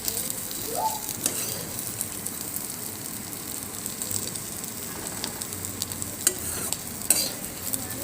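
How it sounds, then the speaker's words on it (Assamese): Soybean chunks fry in a pan of oil, a steady soft sizzle with occasional scraping stirs and light clinks from close by, with no talking. "এতিয়া মোৰ এইফালে চালুহি আহি সয়াবিনো ফ্ৰাই হৈ গৈছে।"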